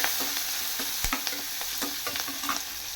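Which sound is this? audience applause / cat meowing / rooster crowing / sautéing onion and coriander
sautéing onion and coriander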